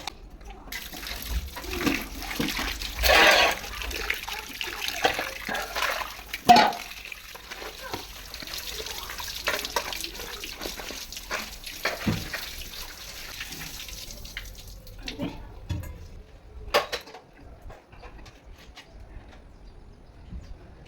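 Water runs and splashes unevenly while fish caught from a pond after heavy rain are washed, with intermittent gushes, sloshing and small knocks close by, quieter toward the end.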